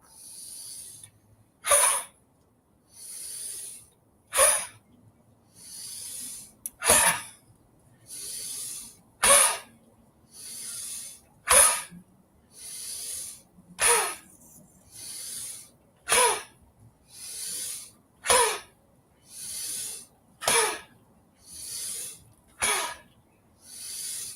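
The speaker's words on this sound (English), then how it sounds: "It's going to be like a cough, and you're going to hit your chest" Repeated forced coughs, about fifteen sharp bursts at steady intervals, each followed by a brief breathy hiss, close and loud, made while hitting the chest in a qigong exercise.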